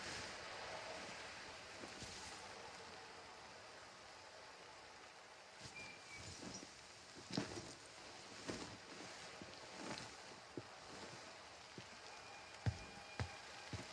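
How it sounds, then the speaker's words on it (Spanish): Steady rain falls in a video game scene, a continuous broadband hiss with scattered louder drops and splashes building toward the end, with no voices. "Ya está lloviendo, se le está mojando"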